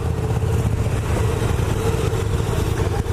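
Close, steady engine drone of a 2017 KTM 1290 Super Duke GT motorcycle accelerating on a road, a continuous mid-pitched hum with mild wind noise and no talking.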